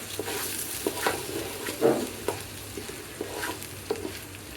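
Pulao rice being lightly fried and stirred in a pan, a soft constant sizzle broken by repeated scraping strokes of a spatula at an uneven pace, close by.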